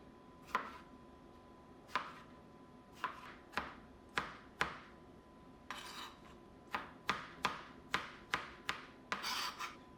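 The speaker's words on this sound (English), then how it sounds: "I'm gonna put 6 of each fruit, chop them up, and then distribute it between the cups" A knife chops berries on a cutting board for overnight oats, sharp crisp strikes at an uneven rhythm, sometimes single and sometimes in quick runs of several, with brief scraping between, close and fairly quiet.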